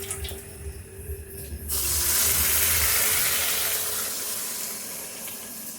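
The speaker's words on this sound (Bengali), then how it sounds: "এই পর্যায়ে আমি এখন জলটা দিয়ে দিচ্ছি।" Water is poured into a pan of chicken being fried for chicken kosha, setting off a sudden loud hiss and sizzle that starts abruptly over quieter frying and stays strong, slowly easing over several seconds.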